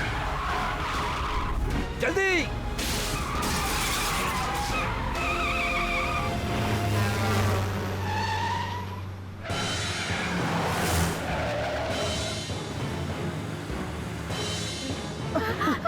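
A car races and skids through a Kannada movie action scene, with loud tire squeals and revving engine noise, then screeching again later. Shouted voices and music run over the driving.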